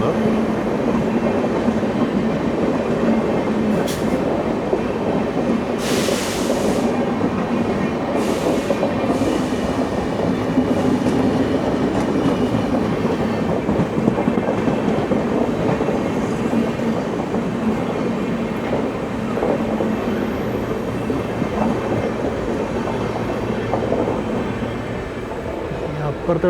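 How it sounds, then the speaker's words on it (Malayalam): An Okha–Ernakulam Okha Express train rolls past close by, giving a loud, steady rumble of wheels and carriages that lasts throughout, with a few brief higher screeches along the way. "ഓഖ എറണാകുളം ഓഖ എക്സ്പ്രസ് ആണ് ഈ കയറി പോകുന്നത്"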